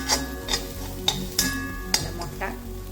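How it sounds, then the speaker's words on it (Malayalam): Beaten egg is stirred around a hot pan for a scramble, with a utensil scraping and tapping against the metal in several sharp strokes over a soft sizzle. "ആ മുട്ട ഇതിലേക്ക് ആഡ് ചെയ്ത് കൊടുക്കാം. നല്ലോണം മിക്സ് ചെയ്ത് കൊടുക്കാം."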